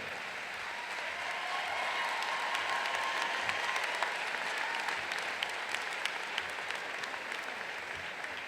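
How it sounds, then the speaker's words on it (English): A commencement audience applauds a graduate's family, steady dense clapping from a sizeable crowd in a hall, holding even for several seconds with a few sharper claps standing out. "A warm hand of applause for our family."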